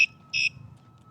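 A Geevon bike alarm on an ebike or motorcycle gives two short, shrill electronic beeps, the second slightly longer, close and clear against near silence.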